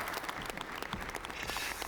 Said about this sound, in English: we're going to give you a round warm of applause from the studio here in Trondheim